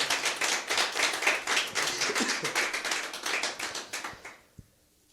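Church congregation applauding, a lively rhythmic burst of hand claps for about four seconds that stops abruptly, followed by one last clap and quiet.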